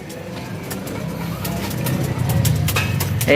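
Racing pigeons cooing outdoors in summer heat, soft low throaty coos repeating over a steady background hum, moderately close, with faint clicks and rustles.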